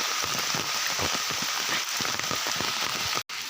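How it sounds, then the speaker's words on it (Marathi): Steady rain falls on a surface at a cucumber garden in Konkan, a dense even patter with scattered drops, close and continuous with no voices. "हा पाऊस नको आहे ना"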